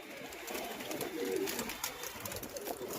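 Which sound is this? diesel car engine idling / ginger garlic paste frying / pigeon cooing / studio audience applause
pigeon cooing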